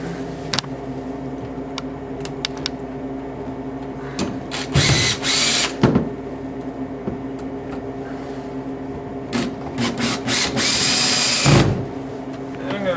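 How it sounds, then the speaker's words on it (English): A power drill in torque mode whirs in several short bursts, loud and close, with quieter mechanical hum and faint clicks between the runs. "I'm on drill setting on torque mode"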